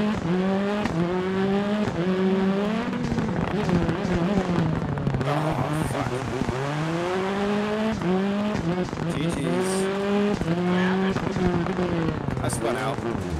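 A video game race car with a punctured left front tire squeals and skids as it spins out, rising and falling tire screeches over a strained engine drone, with people talking loosely over the noise.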